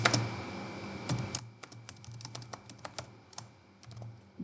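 Close fingers tap computer keyboard keys while code is written, in irregular bursts of light clicks with short pauses between them.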